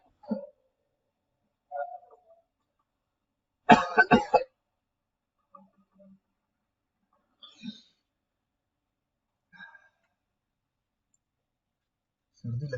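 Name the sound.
coughing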